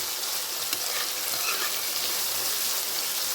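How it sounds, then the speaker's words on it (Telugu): Sliced onions sizzle steadily in hot oil as a curry base, a dense, close, continuous crackle with occasional stirring scrapes and no voices. "ఇంకా మనం ఉప్పు వేయకుండానే వేగిపోతుంది ఉల్లిపాయ అయితే"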